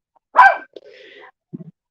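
A single loud dog bark rings out close by, followed by a quieter whiny, drawn-out yelp and a couple of short low grunts, with silence between.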